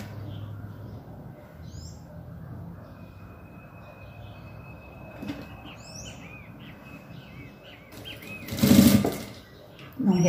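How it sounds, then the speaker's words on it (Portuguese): A sewing machine stitches fabric for a bow belt, running as a steady whirring hum under faint background sounds, then a short loud burst near the end. "Agora eu vou costurar, vou unir esse aqui e vou costurar aqui"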